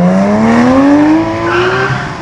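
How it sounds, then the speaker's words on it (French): A race car, the Céline, slides hard through a corner at the Security Runs Satigny event, its loud engine note climbing steadily with a sustained tire-squeal edge, close and continuous. "Oh, il a beaucoup glissé là avec la Céline."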